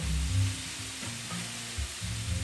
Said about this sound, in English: that shawarma is still browning up nicely right there.